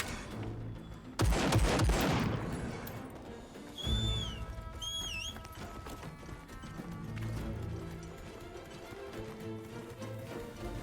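Gunfire from a weapon in the Monster Hunter Wilds video game, a loud burst of rapid shots followed by a second hit and a shrill creature cry, then lingering game ambience.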